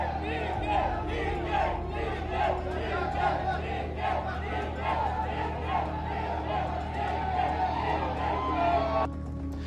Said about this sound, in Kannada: ಕಾರ್ಯಕರ್ತರು, ಅಭಿಮಾನಿಗಳು ಡಿ.ಕೆ. ಅಂತ ಘೋಷಣೆ ಕೂಗಿ ಜೈಕಾರ ಹಾಕಿದ್ರು